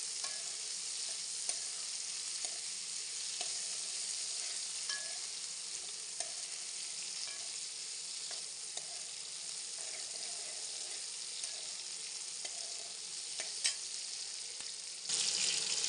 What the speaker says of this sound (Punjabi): ਉਨੀ ਦੇਰ ਤੱਕ ਆਪਾਂ ਪਿਆਜ਼ਾਂ ਨੂੰ ਪਕਾਵਾਂਗੇ ਜਿੰਨੀ ਦੇਰ ਤੱਕ ਆਪਣੇ ਪਿਆਜ਼ ਬਰਾਊਨ ਨਹੀਂ ਹੋ ਜਾਂਦੇ।